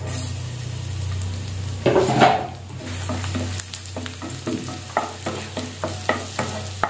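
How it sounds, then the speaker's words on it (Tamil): Chopped garlic and whole chillies fry in ghee over low heat, giving a steady close sizzle; a loud burst as ingredients go in, then repeated scraping stirs with a spoon against the pan, no talking. "ஏன்னா பூண்டு வந்து சீக்கிரம் கருகிடக்கூடாது, அதே சேம் டைம் நெய்யில் வந்து நல்லா ரோஸ்ட் ஆகணுங்க"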